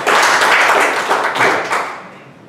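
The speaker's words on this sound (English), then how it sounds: "please give an applause for that." Members at a Toastmasters meeting applaud in a short, close burst of clapping that fades out over about two seconds.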